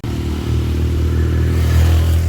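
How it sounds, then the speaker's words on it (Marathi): Vehicle engines labour up a steep hill road at Matheran in the monsoon rain, making a loud, close, steady low rumbling drone with no break and no voices. "गाड्यांच्या इंजिन मध्ये आवाज बघतला ते 4 व्हीलर पण स्ट्रगल करते ते गाडी चढायला"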